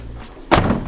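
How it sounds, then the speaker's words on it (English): The door of a Ford Mustang SN95 shuts with a single solid thunk, close and fairly loud, after a moment of quiet. "So yeah, man, close the door."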